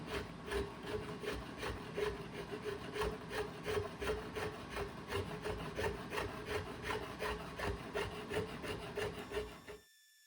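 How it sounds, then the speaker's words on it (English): A wooden fishing net handle gets its edges sanded, a steady, close scratchy rubbing in quick repeated strokes that runs unbroken for about ten seconds before stopping abruptly. "it's now time to sand and soften all those edges"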